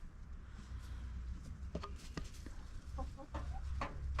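Backyard hens cluck softly inside a coop sheltered from snow, with scattered short clucks and murmurs building toward a quick burst of calls near the end.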